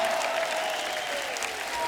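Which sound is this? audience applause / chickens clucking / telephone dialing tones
audience applause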